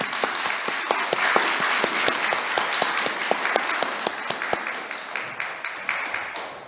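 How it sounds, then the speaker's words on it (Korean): A church congregation gives the worship team a hearty round of applause, with steady, dense clapping and sharp individual claps filling the room and continuing throughout without any talk. "우리 유오디아 찬양팀에게 한번 힘찬 격려의 박수를 주시기"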